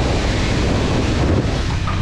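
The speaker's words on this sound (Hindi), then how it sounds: "देखो इतना बड़ा झरना है, दिख नहीं रहा है लेकिन आपको आवाज़ सुनने का होगा" A large waterfall in fog in Arunachal Pradesh roars with a continuous, loud broadband rush that fills the whole moment with no pauses.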